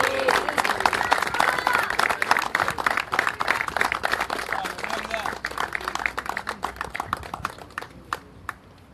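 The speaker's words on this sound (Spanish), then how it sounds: "Un fuerte aplauso para la subcampeona Nicole Ders." Crowd applause at an adaptive tennis awards ceremony honoring the runner-up, a lively stretch of clapping with distinct individual claps and some crowd murmur, thinning out toward the end.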